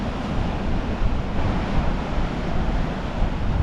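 Sea waves rolling onto a beach at Hastings as the tide comes in, a steady broadband wash of surf with some wind buffeting the microphone, continuous and fairly loud with no voices.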